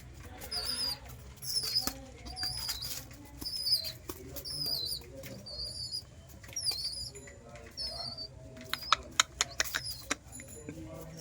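A baby pigeon chick being hand-fed at home gives repeated soft, squeaky peeps and fluttering wing flaps, close and fairly quiet, with faint background noise and no talk.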